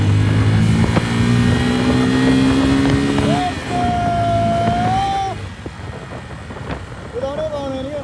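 A motorcycle rides along a road in Nepal, its engine droning loudly and steadily under the rider's talk, then easing off and fading lower toward the end.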